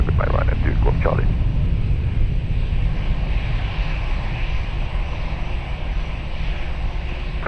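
Loud, steady jet engine roar from an airliner taking off at Lisbon Airport, a broad rumble holding throughout while a radio-like voice speaks briefly at the start.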